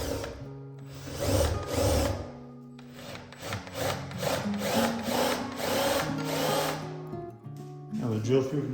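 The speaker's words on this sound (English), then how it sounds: "So I'm just drilling a shallow hole so those little T-nuts will fit in flush." A power drill bores a shallow hole into a wooden stair stringer for T-nuts, whirring close up in repeated short bursts with grinding, rubbing wood noise as the bit cuts in and eases off.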